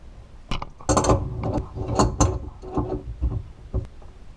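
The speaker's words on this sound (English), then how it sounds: "And then we can go ahead and start hand threading on our new valve." A new water shut-off valve hand-threaded onto a pipe under a sink, heard as close, loud, irregular metallic clicks, scrapes and ratcheting rattles in quick bursts with no one speaking.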